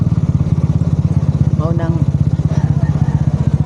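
A motorcycle engine running close by, its steady rapid chugging pulse continuing throughout while a person speaks briefly over it.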